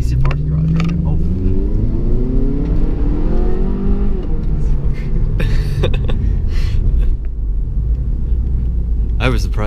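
A loud V8 Jeep engine roars close by at night, its deep rumbling pitch climbing as it accelerates and then easing off, with a constant heavy drone underneath.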